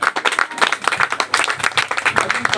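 Lively clapping from an audience at a company team outing event in India, a dense, uneven patter of many hands close by, continuing steadily throughout without a voice over it.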